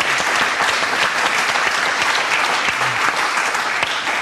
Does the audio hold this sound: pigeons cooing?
no